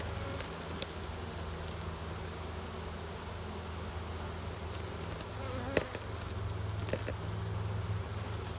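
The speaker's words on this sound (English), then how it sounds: "And there's certainly a lot of bees in the hive." A dense, steady hum of many honeybees buzzing close up inside a hive, continuous and unbroken, with no voices.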